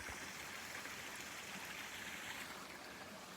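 Creek water in California flows steadily and close by, a continuous broadband rush and trickle with no pauses, running higher than it has in years.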